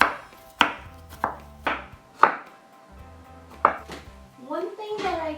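A knife chops zucchini into thin matchsticks on a cutting board, sounding as sharp, close, distinct thwacks at an uneven pace, about seven strikes, and ending in a quick flurry of lighter cuts.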